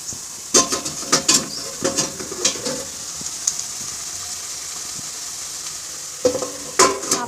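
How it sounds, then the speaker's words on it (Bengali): Cabbage curry cooks in a pan under a steady sizzle, cut by bursts of stirring and spatula scrapes near the start and again at the end. "এদিকে হচ্ছে বাঁধাকপির তরকারি বসানো"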